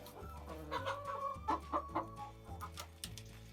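Leghorn, Bielefelder and Amrox hens, about six months old, clucking in the coop, a soft, close series of murmuring clucks and short calls with no talk.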